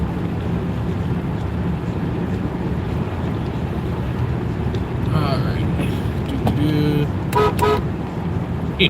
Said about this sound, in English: The horn in this car definitely sounds like it's had better days